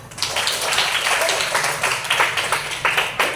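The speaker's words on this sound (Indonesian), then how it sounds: "Tepuk tangan buat kita semua" Students in a classroom clapping together for a round of applause after a math lesson, a dense, steady patter of many hands with uneven bursts, fairly close and continuous for a few seconds.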